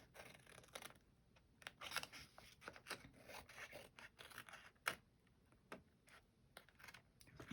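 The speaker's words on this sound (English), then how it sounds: "That's definitely going to have to be cut with scissors." Scissors cutting paper for a handmade journal, heard as a series of soft, close snips and rustles at an uneven pace in an otherwise quiet room.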